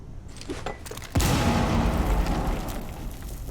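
A grenade goes off in Rainbow Six Siege, a sudden loud boom about a second in, after which a dense rumbling roar and debris noise hang on to the end, with no voices.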